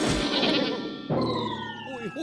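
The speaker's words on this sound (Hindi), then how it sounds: "ये नई बकरी कहाँ से आ गई?" Cartoon goat bleating, a loud wavering bleat followed by a second bleat with a rising comic tone, close and clear, with no one talking.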